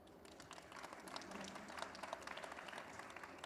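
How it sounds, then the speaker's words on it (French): Audience applause for a panelist at a Paris e-marketing conference, moderate and steady across the whole stretch, with a faint murmur of voices underneath. "Vous pouvez l'applaudir."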